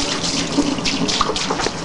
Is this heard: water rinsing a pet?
yes